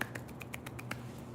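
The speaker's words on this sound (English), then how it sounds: "I'll give you a little golf clap." A light golf clap: several soft, evenly spaced claps, quick and close, over a low steady hum with no talking.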